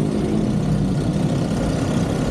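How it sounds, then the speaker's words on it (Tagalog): A faulty, noisy Yamaha Sniper motorcycle engine idles nearby with a loud, rough, continuous drone. "Akala ko naman yung isang motor ang maingay kanina."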